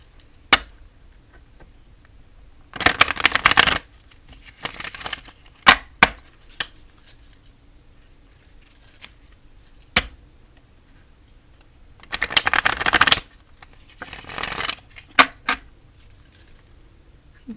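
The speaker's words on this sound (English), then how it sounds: "right now I'm just going to shuffle. This is my Ryder Waite tarot deck." A Rider-Waite tarot deck is shuffled in quiet surroundings, with two longer riffling bursts and scattered crisp card taps and clicks between them, close and clear.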